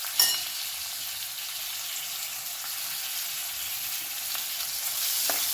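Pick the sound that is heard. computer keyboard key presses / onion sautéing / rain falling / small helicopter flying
onion sautéing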